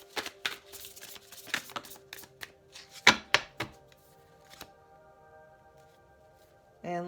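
Tarot cards are shuffled by hand in a quick run of crisp, irregular slaps and riffles, close and fairly quiet, thinning out toward the end against a faint steady background hum.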